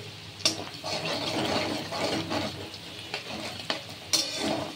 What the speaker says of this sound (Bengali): অনবরত আমি নাড়ছি